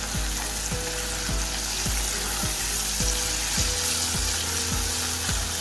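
Chopped chillies fry with softened onions in a pan for a sprouts curry, giving a steady, close sizzle with a faint, regular ticking running through it and no voices.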